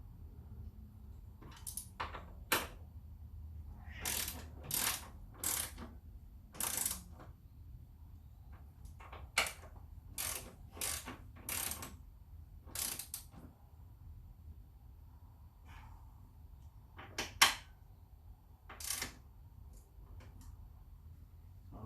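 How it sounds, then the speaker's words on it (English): Wrench tightening a nut on a strut brace of a Cadillac ATS, heard as sharp metallic ratcheting clicks in short irregular bursts, close and fairly quiet, spread across a long stretch with pauses between bursts. "I gotta get a wrench and go back and tighten this here up against the bar."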